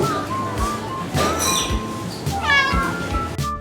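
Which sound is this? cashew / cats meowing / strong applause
cats meowing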